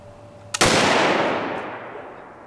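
A single rifle shot fired on an Australian shooting day: one sharp, very loud crack that booms out and decays slowly over about two seconds, with nothing else heard.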